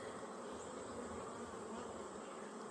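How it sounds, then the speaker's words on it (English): Honey bees fly around the entrance of a hive with only a brood box, making a dense, continuous buzzing hum that stays steady and close throughout, with no voices. "I've got a bunch out front that are doing some locating, flying the figure 8s."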